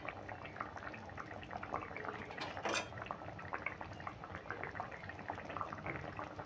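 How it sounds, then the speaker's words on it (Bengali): Jackfruit seed curry with green chillies simmers in an uncovered pot, a close, steady bubbling and popping with a brief louder clatter partway through. "এইভাবে আমি 5 মিনিট মতন ফুটিয়ে নেব"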